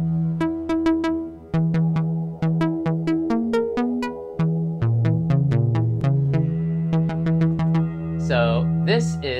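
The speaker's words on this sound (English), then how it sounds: "So OBXa 11 sounds like this." An Oberheim OB-Xa synthesizer virtual instrument on preset 11 plays a loud, bright melodic line of plucky, resonant notes in a steady rhythm, with some held tones and a swooping, wobbling effect near the end; no talking.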